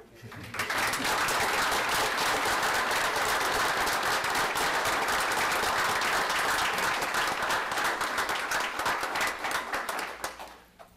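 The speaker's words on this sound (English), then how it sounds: "If anybody would like to clap one one more time." A city council meeting audience breaks into full, dense applause that swells quickly, holds steady for about ten seconds, then tapers off at the end.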